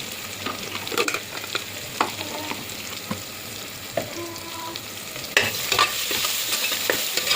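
Ingredients for a soya chunks veg biryani are sautéed and stirred in a pan, a gentle sizzle under repeated distinct spoon knocks and scrapes at roughly one-second intervals, no speech.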